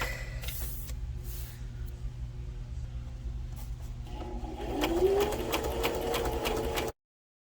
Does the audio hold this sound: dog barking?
no